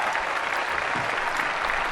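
Dense, steady applause from an audience fills the hall at a presidential debate, continuous clapping from many hands without a break.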